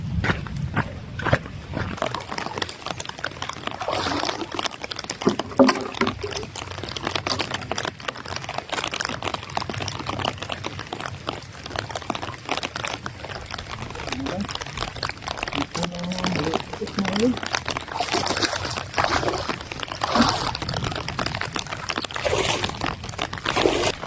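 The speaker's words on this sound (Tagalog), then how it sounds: "Sobrang lakas ng ulan" Heavy rain pours down outdoors, a dense, hissing downpour mixed with irregular splashes and patters on nearby surfaces, fairly close and continuous throughout with no clear speech.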